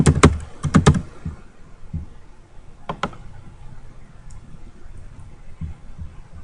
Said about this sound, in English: Here you can type in your search term.